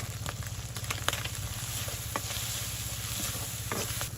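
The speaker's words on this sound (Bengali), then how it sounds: "তো ইচা মাছ ভাজি ভেজি হয়ে আসছে" Small shrimp frying in a pan with salt and turmeric powder, a steady close sizzle running the whole time with scattered pops and stirring clicks and a low background hum; no talking.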